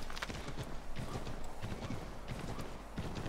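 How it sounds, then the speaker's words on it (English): Horse hooves clip-clop steadily in Assassin's Creed 3 as the horse is ridden up a hill, a continuous rhythmic patter of game footsteps with no talk. "We're going to send our horse up this hill."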